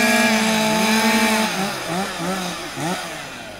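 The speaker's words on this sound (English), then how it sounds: "We're trying to find out who's the fastest chainsaw operator." A chainsaw cuts timber in a timed sawing competition. The loud engine holds a high whine, then drops and wavers in pitch as the chain bites into the log, sounding close and dominant.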